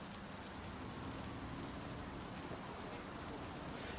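Steady rain pours down in a dense, even hiss, like heavy rainfall on surfaces, continuing without a break, in the video game Cyberpunk 2077.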